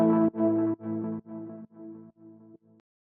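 Modulated synth pad from a Moog Subsequent 37 in a melodic house style, played as seven sustained chords that step down in level, each with a shimmering harmonic texture, alone with no voices.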